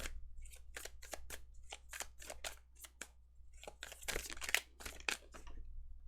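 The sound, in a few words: tarot cards being shuffled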